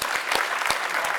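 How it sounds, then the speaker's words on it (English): Brief, steady round of applause from a seated audience at a business chapter meeting, a dense patter of many hands with a few sharper claps standing out. "So let's give a round of applause."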